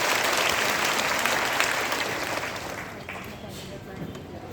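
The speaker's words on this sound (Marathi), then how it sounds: "ह्याच्यासाठी मला वाटतं एक जोरदार टाळ्या झाल्या पाहिजेत मुख्यमंत्र्यांसाठी" Loud, sustained applause from a crowd at a women's honour rally in Dhadgaon, clapping for the Chief Minister, with dense clapping that slowly thins and fades toward the end.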